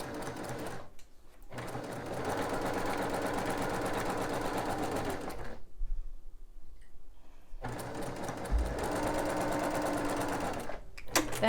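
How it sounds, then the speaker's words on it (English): Sewing machine stitching a seam on a quilt block, a steady continuous whirring hum that runs in two long bursts, stops briefly, then starts again, with no talking. "go ahead and sew down the other side."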